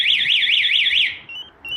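A Spy 5000m alarm system fitted to a Honda CBF 125 motorcycle wails loudly up close in a fast rising-and-falling siren sweep, then cuts to a couple of brief steady chirps.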